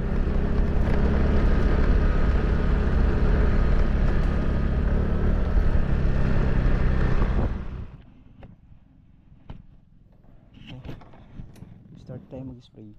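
Small motorized backpack sprayer engine for spraying calamansi trees, droning loud and steady for about seven seconds, then cutting out abruptly, leaving quiet with scattered handling clicks and knocks.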